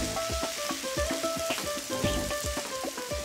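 A sauce of ketchup and hot sauce simmers in a pan, giving a steady soft sizzle and bubbling with small popping spatters throughout, continuous and close.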